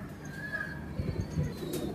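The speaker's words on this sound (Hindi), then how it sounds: "ये मेरे लाल आंखों वाले कबूतरों की पट्टी है जी माशाल्लाह" Red-eyed pigeons coo softly in a low, rolling murmur close by, with a few brief coos standing out over steady faint background hiss.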